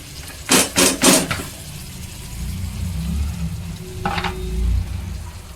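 Boiled toor dal being stirred into a frying pan mixture, with a quick cluster of loud spoon-on-pan scrapes and clatter at the start, a low rumbling simmer underneath, and another short clank near the end.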